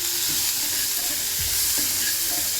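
Food frying and being stirred in a pan with curry masala about to go in, a continuous loud sizzle with scraping stirring strokes, no talking.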